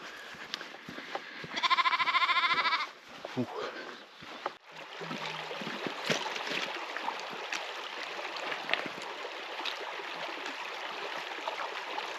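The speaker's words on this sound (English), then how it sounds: "there's lots of cattle and sheep along here as well" Sheep bleat on a dry Scottish hillside near Bridge of Orchy, one loud nearby bleat followed by fainter calls, with steady stream-like outdoor noise and a person talking over it.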